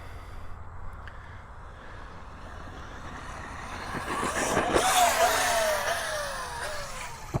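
An Arrma RC car, a 6S basher, revs its electric motor as it hits a dirt jump ramp, a quiet whir building to a loud, rising high-pitched scream at takeoff before easing off.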